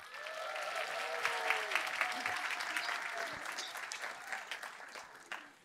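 Warm applause greets youth students at a Korean church gathering, a lively patter of many hands with a few cheers and whistles, fading out near the end.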